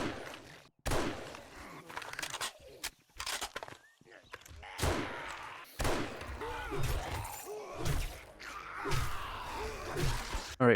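Rifle gunfire in the video game 7 Days To Die: several sharp, separate shots fire at irregular intervals, loud against quieter in-game background sounds.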